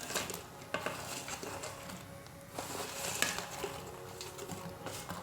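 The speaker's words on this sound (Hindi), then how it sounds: "तो कढ़ी में उबाल आ गया है और अब इसमें डाल देंगे हम ये पकौड़ी" Pakoras go into boiling kadhi in a pot, with soft splashes, a bubbling simmer and clinks of a metal utensil against the pan, all close and moderately quiet.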